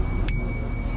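A single bicycle bell gives one bright ding that rings out briefly and fades, heard near and alone against quiet outdoor background noise.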